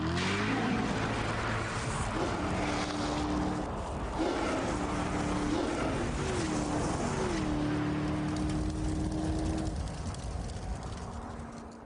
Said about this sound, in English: Let's find out with a quarter-mile drag race between the car and a trail of